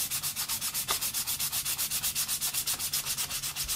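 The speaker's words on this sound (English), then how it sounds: "harsh grain sandpaper" Coarse-grit sandpaper rubs over stainless steel dagger scales in fast, even back-and-forth strokes, a close, rhythmic rasping with no talk.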